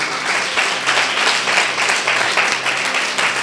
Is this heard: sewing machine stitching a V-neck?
no